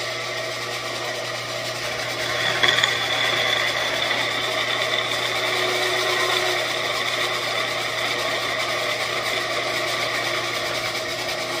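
A steady mechanical whine of a drill press running, with a slight rise in grinding intensity partway through as the bit cuts into metal.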